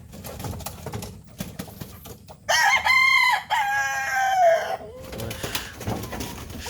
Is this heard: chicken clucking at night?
yes